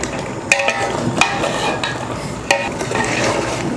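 Chicken gravy, a six-kilogram batch, being stirred after chicken powder goes in, with wet sloshing strokes and a few sharp metal clinks of a ladle against the pot, close and fairly loud, no talking.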